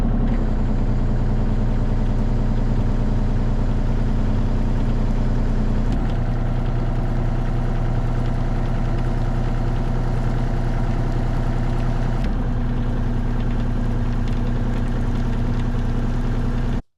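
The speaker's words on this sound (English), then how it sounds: "You roll it in one direction, and that causes the stars to start to spin." A Lloyd Rotastar RS2-4 topsoil screener runs with its stars spinning, giving a steady, continuous low engine-like hum and drone throughout with no talk.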